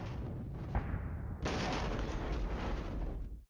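Artillery fire in the Cold War wargame Flashpoint Campaigns: a dense, sustained rumbling roar of distant barrage, swelling louder partway through and then cutting off abruptly, with no talking.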